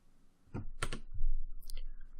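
A computer mouse clicks while stepping through code in a debugger: a few short, close clicks in quick succession over a quiet room background.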